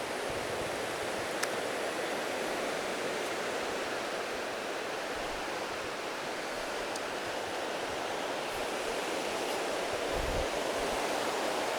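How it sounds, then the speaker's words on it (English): Steady rushing of a clean creek, constant broadband water noise running unbroken throughout, with a few faint high chirps and rustles over it and no talking. "I'm out here next to this beautiful river. I'll show you. It's actually a creek."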